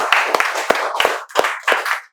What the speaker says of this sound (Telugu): క్లాప్స్ బేటా.